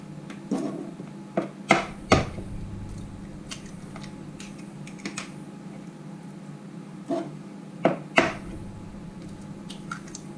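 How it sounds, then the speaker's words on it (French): Three eggs are cracked against a bowl for a chocolate marble cake batter, giving a few sharp taps and crunches followed by soft wet squishes, close and quiet, with no voices. "donc, je casse mes 3 œufs"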